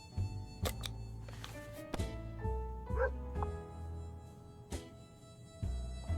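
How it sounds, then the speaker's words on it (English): Dog barks and yips from a video game, several short sharp bursts spread across the stretch over a steady tonal music bed, fairly close and moderately loud. "When we heard barking, we were all at the door in a moment's notice."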